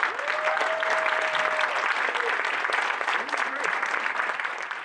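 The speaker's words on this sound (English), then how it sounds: "please join me in a round of applause for Gere" Sustained applause from a film and TV conference audience after a production team panel, broad and steady throughout with a faint tonal whistle early on, no speech over it.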